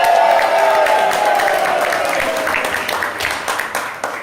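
A seated audience breaks into applause, a dense wash of many hands clapping that starts loud and gradually thins and fades, with faint crowd murmur mixed in.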